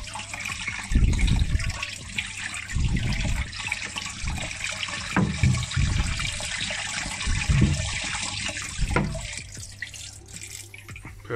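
About 10 litres of water is poured into an aquarium, giving repeated splashing gushes that start and stop in uneven bursts, close and fairly loud, with no speech.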